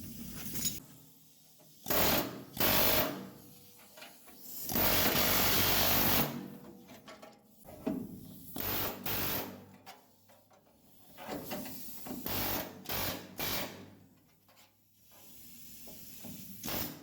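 A drill bit bores through a resistance spot weld in a car body panel, such as a trunk, floor or quarter panel. Loud, close grinding bursts of a few seconds each stop and start repeatedly, with no talking.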